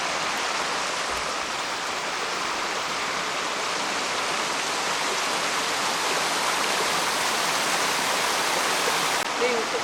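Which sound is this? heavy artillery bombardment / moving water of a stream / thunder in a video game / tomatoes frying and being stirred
moving water of a stream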